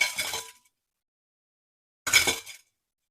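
Crisp-fried chicken egg chop gives two short, sharp crunches, close and loud, separated by about a second and a half of silence.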